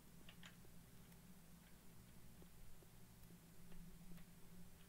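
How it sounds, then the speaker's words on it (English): A clock in a dark house in the video game When The Darkness Comes ticks in a faint, regular rhythm over a low ambient hum. "It sounded like it was ticking in there."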